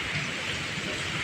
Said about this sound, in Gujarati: હજી પણ ચાલુ છે વરસાદ